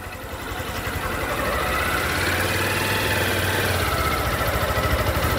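A motorcycle engine runs steadily at a driving-school test ground, pulling away slowly in first gear with the clutch eased out, a continuous loud mid-low drone that swells slightly as it moves off.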